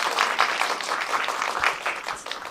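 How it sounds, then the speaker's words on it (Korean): An audience at a film screening's guest talk claps for the arriving guests: a soft, steady patter of many hands throughout, fairly faint and distant. "먼 길 이렇게 와주신 나비와 비비안 이 두 분께 박수 부탁드립니다."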